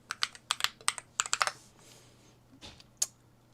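Typing on an MCHOSE ACE 68 Turbo Hall Effect keyboard, a quick run of crisp, close keystrokes. A pause follows, then a few scattered key presses, with a low steady hum underneath.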